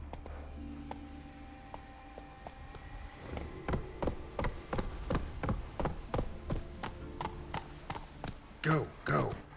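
A horse galloping in the video game The Witcher 3: Wild Hunt, with steady, close clip-clop hoofbeats that grow louder and quicker, and a voice talking faintly in the background.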